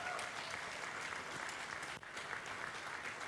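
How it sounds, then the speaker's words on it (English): Steady, dense applause from a large audience at a screen culture awards ceremony, continuous and even throughout with no voices standing out. "give yourselves another round of applause"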